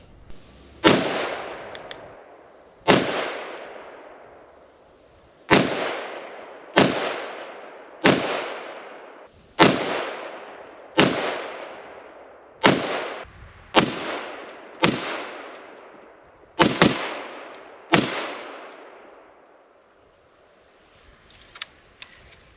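Eleven sharp rifle shots ring out one at a time, a second or two apart, while a DNT Hydra HS225 thermal scope is sighted in outdoors. Each crack is loud and followed by a short fading echo, and no one talks.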